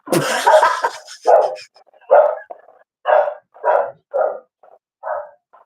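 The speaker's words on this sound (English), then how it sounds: "Dog, shut the fuck up." A dog barks repeatedly, about eight loud, close barks in an uneven rhythm following a burst of noisier yelping at the start, with no talking over it.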